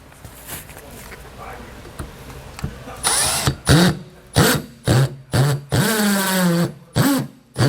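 Power drill driving screws to fasten the door of a Furrion tankless water heater on a 2015 Grand Design RV, heard as a series of short, loud whirring bursts with brief pauses between them, following a stretch of quieter handling noise.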